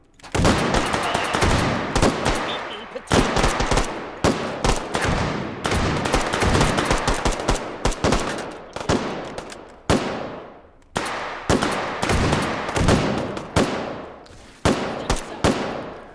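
Rapid automatic and semi-automatic gunfire in the VR shooter H3VR, including a 5.7 weapon, crackles in loud dense bursts with short gaps, close and continuous for most of the stretch, with no talking over it.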